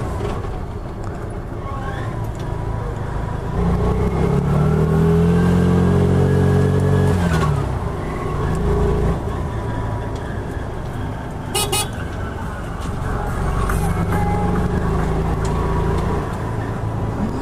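Piaggio Ape City Fi 2020 three-wheeler driving in third gear, a loud steady engine drone that swells in pitch and volume mid-ride, with road noise and a brief horn toot.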